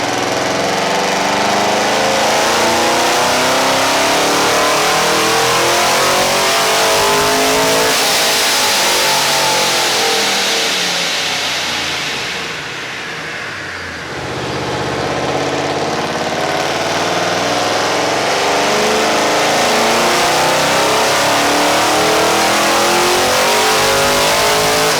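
Supercharged Chevy SS with a ProCharger F1A blower and 525 pulley at about 8.5 psi, running E85 on a dyno: loud, sustained engine roar climbing through the revs, a brief dip midway, then pulling hard again, with no voices.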